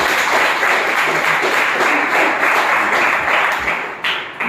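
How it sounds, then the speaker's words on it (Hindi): Loud applause from a gathered audience at a business meeting's closing session, continuous massed clapping for several seconds before easing off at the end. "इनके लिए एक बार जोरदार ताली"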